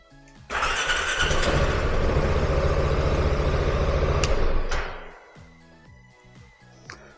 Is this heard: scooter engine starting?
yes